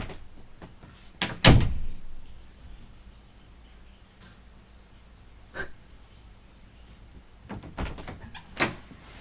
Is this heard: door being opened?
yes